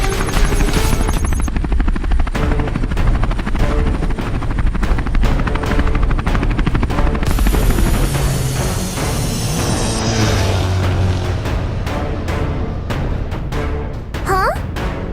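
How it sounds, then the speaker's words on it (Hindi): Cartoon helicopter flies with fast chopping rotor beats, loud and continuous, joined by whooshing effects and a brief rising tone near the end, no speech. "अब फ्यूचर मैन का हेलीकॉप्टर इस टनल में नहीं आ सकता।"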